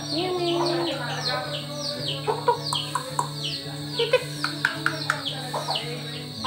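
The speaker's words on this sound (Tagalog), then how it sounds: "yung mga manok mga idol, oh, pumasok po sa bahay" Chickens cluck in short repeated bursts nearby, with small birds chirping in the background and a steady low hum underneath.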